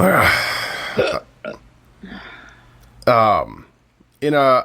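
Several loud, guttural burps come in separate bursts with quiet gaps between them, close and unaccompanied by other sounds.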